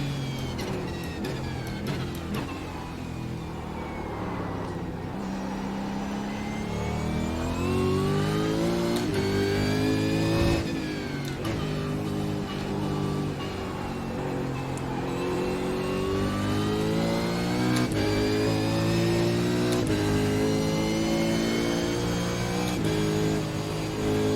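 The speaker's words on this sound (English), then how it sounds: "It's a V8 Supercar that actually feels like a car." A V8 Supercar engine in the iRacing sim, revving up and down through the gears with a steady, loud roar and rising and falling harmonics. It runs continuously without a break and with no talk over it.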